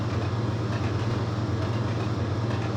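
An Intercity 125 train runs in Trainz Plus, a steady low diesel drone with rail rumble heard from on board, continuous and even throughout.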